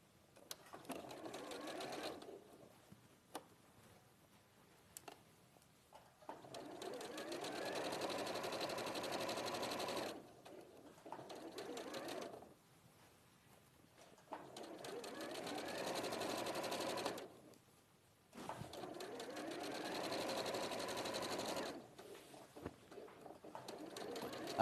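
A sewing machine runs in long bursts, stitching a straight line in fabric and stopping briefly between runs, with a steady whirring hum throughout each burst.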